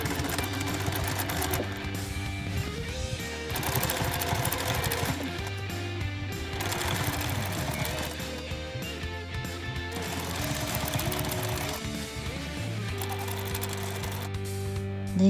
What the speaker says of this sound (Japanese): 印をミシンで縫います。